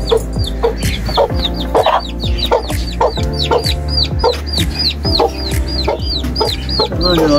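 A single chick near a cage of ducks peeps in a rapid, repeated string of high, sharp chirps, loud and close. Lower throaty fowl calls mix in underneath throughout.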